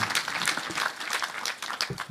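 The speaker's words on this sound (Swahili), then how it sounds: "Tumpigie Mheshimiwa Medho makofi tena." A burst of crowd applause at a burial in Nyandarua, Kenya, many hands clapping densely and steadily for about two seconds, fairly close and loud.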